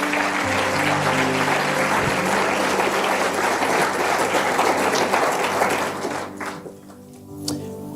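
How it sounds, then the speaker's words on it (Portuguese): A church congregation applauds during a sermon, steady loud clapping filling the space for about six seconds before thinning out and fading near the end. "E aplauda ao Senhor Jesus mais uma vez."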